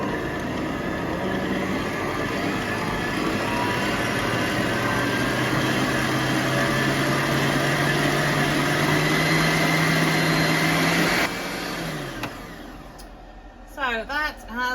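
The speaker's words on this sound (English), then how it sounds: "I'm going to use my stand mix today to make these cakes" A stand mixer whisks 110 grams of butter with a steady, close mechanical whir and hum that runs for about eleven seconds, then winds down and stops. A voice follows at the end.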